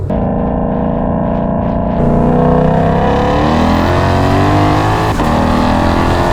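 A stock Ford Shelby GT500 revving hard, its exhaust loud and close with a sustained harsh roar that jumps in intensity after a couple of seconds and holds at high revs.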